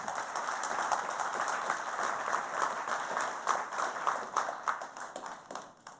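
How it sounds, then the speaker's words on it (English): An awards audience gives the speaker a sustained round of applause, dense steady clapping from a roomful of people that tapers off at the end. "Can I give Samantha another round of applause?"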